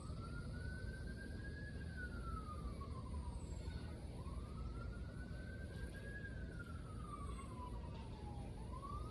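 A distant siren wails, rising and falling slowly in long sweeps, faint over steady traffic rumble.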